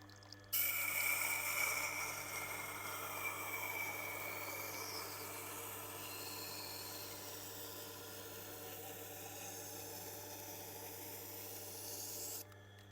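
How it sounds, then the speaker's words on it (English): A knife grinds steadily on a Tormek sharpening wheel, making a continuous, even rasping whir over a low motor hum that stops abruptly at the end. "Now you can enjoy the sounds of grinding."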